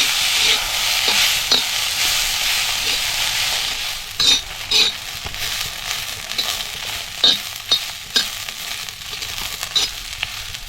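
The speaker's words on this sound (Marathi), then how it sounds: "गवारी आपल्याला चांगली अशी भाजून घ्यायची आहे" Cluster beans (gavar) roast on a griddle over a wood-fired clay stove, giving a steady loud sizzle with scraping stirs and several sharp clatters in the second half, no voices.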